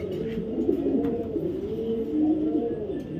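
A female racing pigeon coos close by in soft, repeated rolling phrases, clear against a quiet background with no talking.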